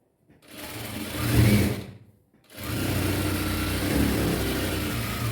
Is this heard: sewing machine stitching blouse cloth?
yes